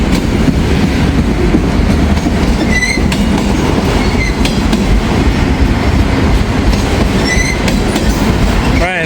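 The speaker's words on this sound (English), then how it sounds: "Comes the end of the train, the auto racks are always in the rear." The tail end of a freight train passes close by, its rear cars being auto racks, with loud continuous rumbling, rhythmic clickety-clack over rail joints and sharp wheel squeals cutting in.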